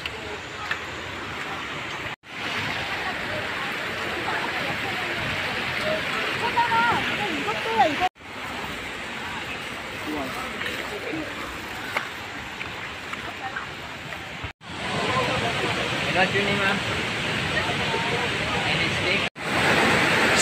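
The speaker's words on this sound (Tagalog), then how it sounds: "naana ta diri sa Kawasan Falls" Kawasan Falls waterfall in Badian, Cebu, roaring as a steady, dense rush of water that fills the scene, broken by a few abrupt cuts, with voices talking over it.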